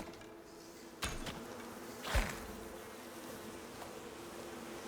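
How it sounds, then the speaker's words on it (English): Bees buzz faintly from a hive or nest in the Icarus survival game, with a couple of sharp thuds and a rushing swell breaking through the soft, steady drone. "Oh, we got the bees."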